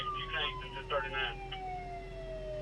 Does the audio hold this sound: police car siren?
yes